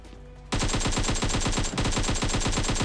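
An AKM rifle in PUBG Mobile opens up after a brief quiet moment, firing a loud, rapid, unbroken automatic burst with one short hitch partway through.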